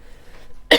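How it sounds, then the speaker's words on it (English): One short, sharp cough bursts out loudly after a near-silent pause. "I've got the most dreadful cough."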